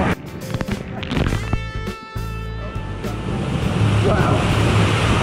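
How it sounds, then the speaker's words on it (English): A water slide tube with a waterfall pouring onto it: a loud, continuous rushing, splashing roar builds and fills the second half, with a voice briefly heard near the start. "now I'm about to be hit with a waterfall"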